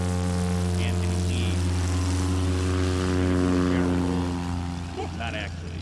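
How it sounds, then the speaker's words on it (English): A propeller airplane comes in to land at a STOL competition in Gallatin, Tennessee, its engine drone steady and close and then easing off, while people talk over it. "So you see how the plane is settling down?"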